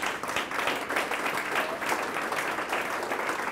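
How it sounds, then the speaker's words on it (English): Conference audience applauding at an EU energy and climate event, a dense, steady roar of many clapping hands, fairly loud and continuous throughout. "Ladies and gentlemen, a round of applause for Jean-Michel Glachant."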